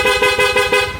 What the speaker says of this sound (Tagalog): Dito natin ilagay yung switching niya para sa loud horn.